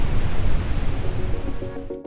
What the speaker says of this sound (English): To block distractions, noise is played back for Joe